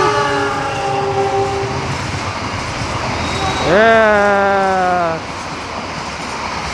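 The Argo Wilis passenger train passes on the line near Kalasan station with a loud continuous rumble. Its horn sounds twice, first a long tone and then a louder falling blast, and a voice speaks briefly.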